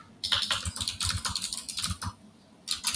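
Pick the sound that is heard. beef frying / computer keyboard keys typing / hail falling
computer keyboard keys typing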